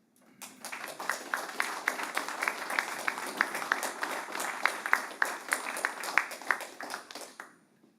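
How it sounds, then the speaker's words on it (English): A room full of people applauding at a regional district board inaugural meeting, a dense burst of clapping that swells quickly, holds steady for several seconds, then fades out. "this calls for a round of applause to the new board"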